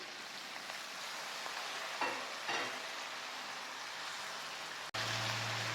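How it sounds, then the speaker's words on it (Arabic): Onions, garlic and tomatoes hiss in a pot for chicken kabsa with a dense, even sizzle. A couple of soft stirring scrapes break it, and a brief thud comes near the end. "بعد كده هنزل بالبصل والثوم والطماطم."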